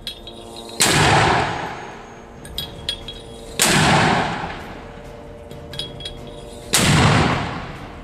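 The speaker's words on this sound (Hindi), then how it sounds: "लगातार लॉन्चर में बड़े बड़े रॉकेट भरकर फायर कर रहा होता है" A rocket launcher loaded with large rockets fires three times at steady intervals of about three seconds. Each launch is a loud, roaring whoosh that fades out, with fainter clanks heard between the launches.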